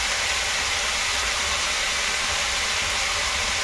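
Flat beans (shim) frying in a pan, seasoned with spice, salt and turmeric, give a steady, even hiss of sizzling oil that holds level throughout with no pauses.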